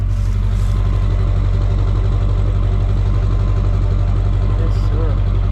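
Chevrolet Silverado diesel truck idling, a loud, deep, steady rumble with a fast rhythmic clatter, heard close throughout.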